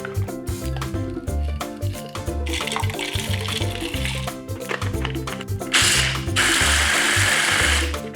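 An electric grinder coarsely grinds peanuts for satay sauce, whirring and rattling in uneven bursts with rising, gritty surges as the nuts break up.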